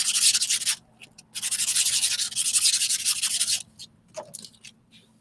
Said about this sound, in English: I start with a 150 grit file.